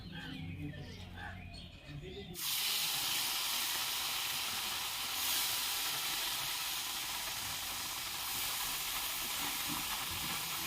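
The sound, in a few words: oil sizzling in a hot wok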